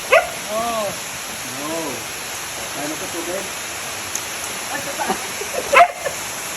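American bully dogs bark near a waterfall on a trekking trail, several sharp barks early on, then fainter yips over the steady rush of falling water, with a brief clatter near the end.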